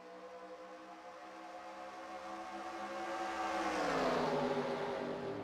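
Stock car engines racing at Atlanta in the NR2003 simulator make a steady, tonal engine drone that rises in pitch and loudness and then sweeps lower, like a car passing or shifting up. No voices are heard.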